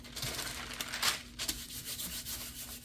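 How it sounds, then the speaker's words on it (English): Paper being burnished down by hand onto a handmade greeting card, a dry rubbing and scuffing in short uneven strokes, close and fairly quiet, with a steady faint hum underneath. "You're burnishing it down really good."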